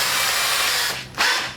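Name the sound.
power drill drilling holes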